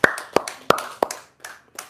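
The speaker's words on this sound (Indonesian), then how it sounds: "Oh, tepuk tangan dong." Audience clapping hands at a religious talk, a handful of sharp, separate claps spaced unevenly, fairly close and distinct, thinning out toward the end with no talk over them.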